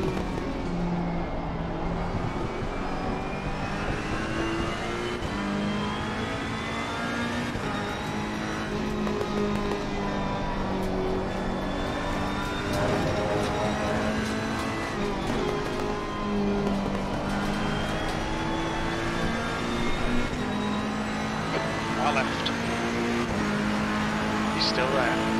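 GT race cars in the Assetto Corsa Competizione racing game, a full pack on track: a steady, loud engine drone with shifting pitch as cars rev and pass, continuous throughout with a person talking over it.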